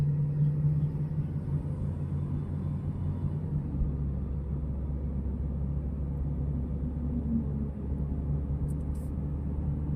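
A steady low engine rumble from inside a used car during a driving lesson, holding fairly even with a slight rise in power as the accelerator is pressed, no voices on top.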